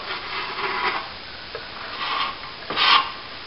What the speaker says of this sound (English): we want to try and get that round bit and the excess plaster off there. Just by gently scraping it off.